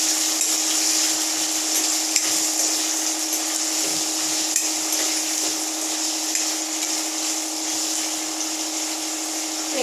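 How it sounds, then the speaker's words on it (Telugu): Paneer cubes frying in hot oil, a steady bright sizzle with a faint hum underneath, continuous and close, with occasional light knocks. "ఇవి దీంట్లో వేపుకుందామండి నూనెలో కొంచెం ఫ్రై చేసుకున్నాం"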